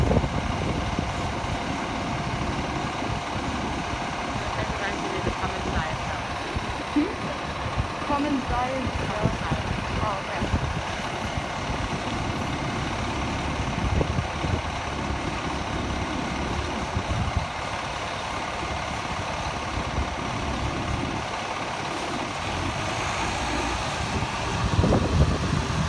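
An MBTA Neoplan AN440LF transit bus idles at a steady low rumble near Kenmore Square, a continuous engine drone holding level throughout amid outdoor street ambience.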